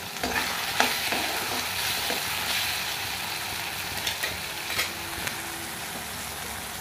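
Masala cooking in a pan for a matar mushroom dish, giving a steady broad frying hiss with scattered stirring scrapes and small pops, close and continuous.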